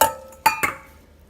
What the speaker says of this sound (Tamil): ஐஸ் க்யூபையும் போட்டுக்கோங்க.